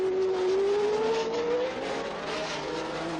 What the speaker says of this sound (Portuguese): ele vai tentar a ultrapassagem sobre Emerson Fittipaldi